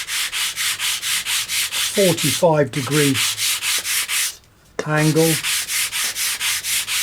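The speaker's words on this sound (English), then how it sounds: "I'm going to use my sanding bar" A sanding bar strokes back and forth across a model aircraft tailplane for an FW190 build, rhythmic evenly spaced rasping passes, briefly paused while someone speaks.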